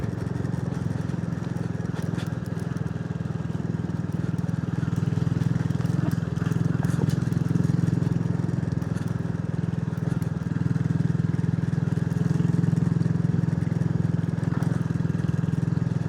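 A Royal Enfield 350 Scrambler motorcycle engine runs steadily up close, a continuous low rumbling drone with no clear revving or pauses throughout.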